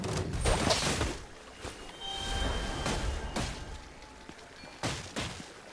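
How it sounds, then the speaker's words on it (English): Distant gunfire rings out in a video game as a series of muffled, booming shots and thumps spread across a steady background rumble, some louder than others, with no voices over them. "Hearing gunshots in the distance."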